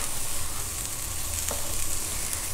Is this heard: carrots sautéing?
yes